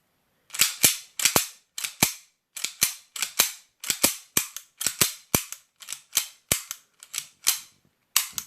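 Gas blowback airsoft pistol fired repeatedly after maintenance and reassembly, about twenty sharp close cracks of the slide cycling, in irregular pairs and singles with short pauses, no talk.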